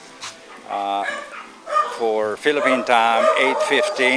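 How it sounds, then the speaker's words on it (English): Several dogs bark and yip excitedly close by, overlapping and rising in pitch, while a person keeps talking over the noise. "And here we go, some excited dogs."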